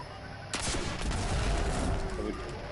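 Rocket launcher firing in Destiny 2, a sharp burst followed by a rolling, rumbling explosion that sustains loudly for about two seconds before tapering, with no one talking over it.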